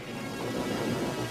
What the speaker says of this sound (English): I swear Man-at-Arms takes the full force of that lightning blast